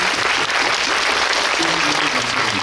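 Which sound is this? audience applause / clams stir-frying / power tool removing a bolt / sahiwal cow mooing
audience applause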